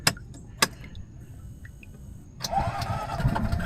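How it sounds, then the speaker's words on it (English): A Polaris Pioneer 500 UTV's EFI engine, after key cycling to prime the injector, cranks and catches: a couple of sharp clicks, a short quiet pause, then the engine fires and runs with a rising, steady mid-pitched drone nearby. "Cycle the key several times to fire the injector."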